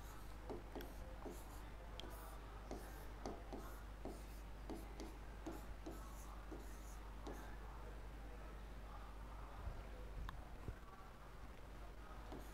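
A marker or chalk writes a math formula on a board during a profit-and-loss lesson, making a steady run of quick taps and scratchy strokes over a low, constant room hum.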